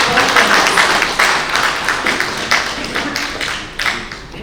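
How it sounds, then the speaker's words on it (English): An audience at a technical session of an academic conference applauds the chairperson, with a dense, steady round of clapping from many hands and sharper individual claps standing out, tapering slightly toward the end. "can we please have a huge round of applause for our chairperson?"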